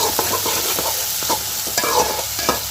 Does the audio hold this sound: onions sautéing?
yes